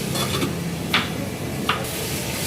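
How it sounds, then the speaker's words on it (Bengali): Food boiling in a covered pot, stirred after boiling with salt added, giving a soft continuous scraping and bubbling sound marked by two sharper clinks of the utensil against the pot. "এবার সিদ্ধ হওয়ার পর এবার ভালো করে আরেকটু নাড়িয়ে নিল"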